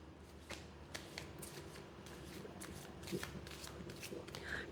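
Quiet riffling and slapping of tarot cards being shuffled, a run of soft crisp bursts repeated several times, close by with faint background hum.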